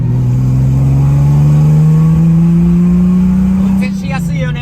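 A Datsun Fairlady Z S30 with carburetors drives along, its engine droning loud and close in one long rising pull before easing off, with voices talking over it.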